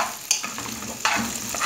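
Calabresa sausage frying in a pan makes a close, steady sizzle and crackle, with two brief scraping stirs, no voices.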